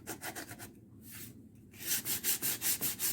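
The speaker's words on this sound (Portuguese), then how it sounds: "Lixa até ficar lisinho, sem tirar a tinta" A painted MDF box being sanded by hand with sandpaper, giving a run of rhythmic scratchy rubbing strokes, softer and broken by pauses at first, then faster and louder regular strokes close up, with no talk.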